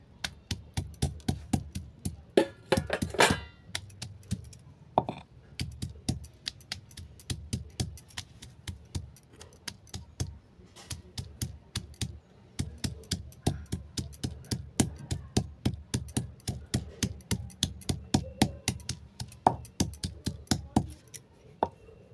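Garlic cloves crushed and chopped on a board for a red amaranth leaf fritter recipe, making a long run of sharp, close, regular knocks, with a short pause and a couple of louder hits early on.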